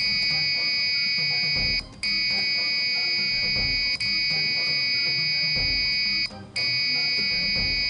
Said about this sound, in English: let's try your buzzers